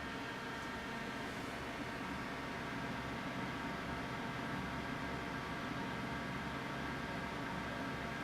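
Thermaltake Water Pro 2.0 CPU water cooler fans running at their highest setting, a steady broadband jet-like rush with a low hum, constant and close throughout with no talking.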